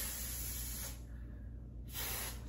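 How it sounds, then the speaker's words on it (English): Two close hissing bursts from an aerosol can of freeze spray during a lace wig install, a long spray then a brief pause before a second spray starts. "I'm gonna take the freeze spray"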